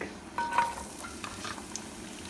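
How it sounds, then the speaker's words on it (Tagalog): Garlic sautéing in a pan for tofu sisig gives a soft, steady sizzle with a few light stirring scrapes. It is fairly quiet, and no one speaks. "Ngayon, umpisa na natin ang mag-saute ng para ihalo sa sisig. Unahin natin ang garlic."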